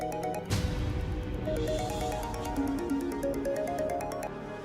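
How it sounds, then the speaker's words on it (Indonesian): A mobile phone ringtone plays steadily and loudly as a repeating melodic tune with a bright, regular pattern, alone without speech. "Kok handphonenya bunyi terus?"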